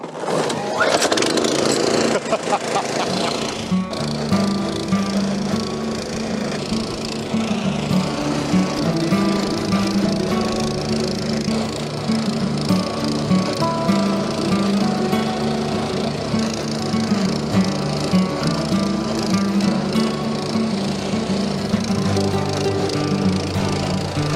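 A Cobra lawn scarifier runs steadily across a lawn, its motor droning loud and continuous with a rough, rattling texture as it works the grass.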